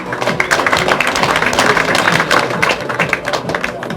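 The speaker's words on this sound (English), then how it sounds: "let's give this girl a big round of applause" An audience bursts into dense, sustained applause for a girl contestant, with many hands clapping steadily throughout and a crowd murmur underneath.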